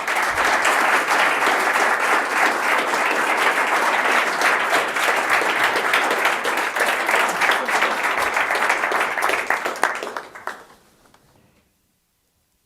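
Conference audience giving warm applause to welcome Fabrice Leggeri, dense sustained clapping that fades out near the end into silence.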